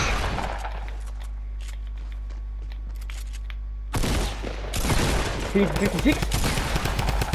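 Rapid drum gun fire in the Fortnite video game crackles in a dense burst after a quiet stretch, joined by other shots and impacts, with players talking over the gameplay.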